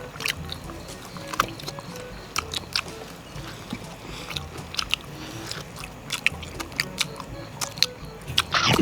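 Someone chews through a giant roast pig head during an eating contest, with repeated close crunching bites and wet chewing over a low background, a few sharp crackles standing out.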